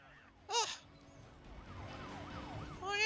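Police sirens from the racing game Need for Speed: Most Wanted wail and sweep up and down at moderate distance, with a brief sharp blip near the start.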